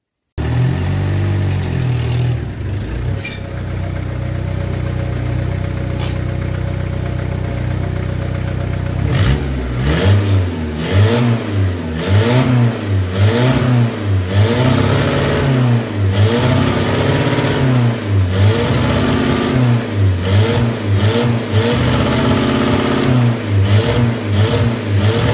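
An old barn-find car engine cranks and catches, idles roughly, then is revved again and again in uneven, labored surges that never quite climb to high revs, loud and close with no talk.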